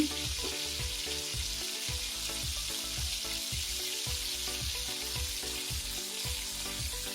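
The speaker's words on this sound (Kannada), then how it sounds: "ಈಗ ಮಶ್ರೂಮ್ ಹಾಕೊಳ್ಳೋಣ. ಈ ಮಶ್ರೂಮು ಎಣ್ಣೆಲೇ ಚೆನ್ನಾಗಿ ಬೇಯಬೇಕು." Mushrooms fry in hot oil for a gravy, giving a continuous close sizzle with soft, rhythmic scraping and stirring strokes throughout.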